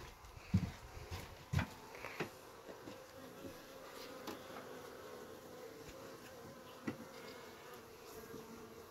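Bees working inside a beehouse hive during an inspection, a faint steady insect hum with a few soft knocks and bumps near the start.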